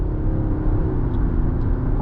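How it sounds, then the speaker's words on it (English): The petrol engine of a 2024 Lexus TX 550h+ plug-in hybrid kicks on while the car climbs uphill, a steady low droning hum inside the cabin over constant road rumble. "Going uphill here, you can hear the engine kick on"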